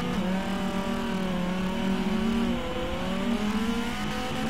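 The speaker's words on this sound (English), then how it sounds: "we tune into a very nice 10-cylinder symphony" Dodge Viper V10 race car in a racing video game at Silverstone, a loud steady engine note with shifting pitch as it revs and holds through gears, sustained throughout with no talk.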